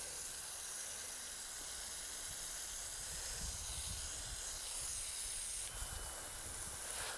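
A garden hose spray jet waters freshly sown peas, giving a steady, soft hiss that runs unbroken throughout, fairly faint and alone, with a slight shift near the end.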